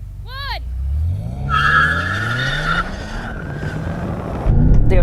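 BMW M5 engines rev hard and tires chirp as cars launch from a standstill in a drag race, the pitch climbing quickly as they pull away.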